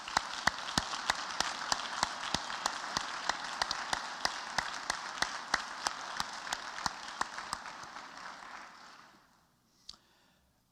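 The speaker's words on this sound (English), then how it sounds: "Let us recognize all of these outstanding seniors with one more round of applause." Applause for outstanding seniors fills a hall at an academic award presentation, a steady wash of clapping with regular sharp claps on top that fades away, followed by a lone knock.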